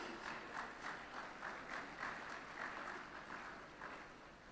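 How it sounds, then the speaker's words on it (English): An audience at the R.I.D.E. 2024 research, innovation, design and entrepreneurship event applauds its invited guests. The clapping is faint and distant, a dense, steady patter with slight surges that fades a little toward the end. "Can we again have a huge round of applause for these eminent personalities?"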